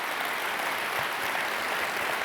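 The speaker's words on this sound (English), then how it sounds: "Give them a round of applause." A crowd applauds, a dense, steady wash of clapping that carries on without a break, with no voices standing out.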